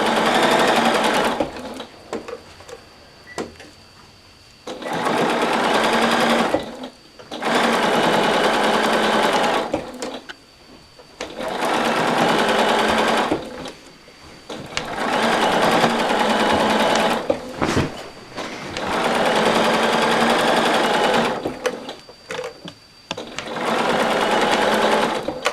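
A sewing machine stitches through pinned fabric in repeated bursts of steady mechanical whirring, each several seconds long and separated by short pauses, loud and close with no one talking.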